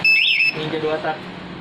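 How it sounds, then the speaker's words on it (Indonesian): A Yamaha WR 155 VVA motorcycle alarm set off by vibration gives a brief, loud warbling electronic tone that cuts off after half a second, followed by a faint murmur of voices. "1 kali gembok tutup, maka alarm ini aktif dengan mode suara. Ketika motor kena getaran yang timbul seperti ini."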